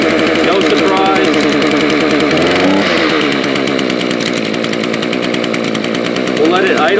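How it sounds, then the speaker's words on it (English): A gas grass trimmer runs loud and close right after its first start of 2017, its rubber-mounted engine holding a steady, buzzing idle through the whole stretch. "We'll let it idle there for a bit."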